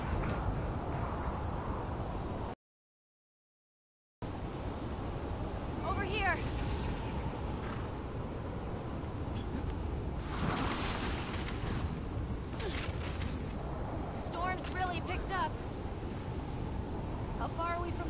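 Steady wind gusting across high ground in The Last of Us Part II, a constant rushing roar with a short gap, broken by faint scattered sounds and a brief voice.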